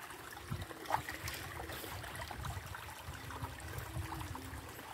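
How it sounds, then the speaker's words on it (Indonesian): A mountain-slope river after light drizzle, water flowing and trickling steadily over rocks at a moderate, even level, with no voices. "Seperti inilah sungai ya di kawasan lereng Gunung Pati Ayam."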